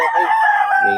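A Gilmore Hatch Henny gamecock rooster crows close and loud, one strong sustained tonal call with a clear rising and falling pitch.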